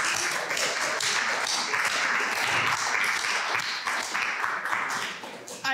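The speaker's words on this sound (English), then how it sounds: "Let's start with a round of applause, please, for Faith and for Dr." Audience applause at an arts cafe reading event, dense sustained clapping from a room of people that carries on steadily throughout and tapers slightly near the end.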